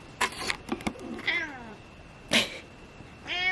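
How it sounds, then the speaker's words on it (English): A pet cat, just awake from a nap, gives several short meows and one longer caterwaul-like cry, spaced irregularly and close to the microphone, with quiet gaps between. "And my cat just woke up from her nap."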